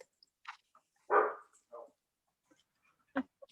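A dog barks a few short, sharp times at a distance during an otherwise quiet meeting, each bark spaced apart and fairly faint.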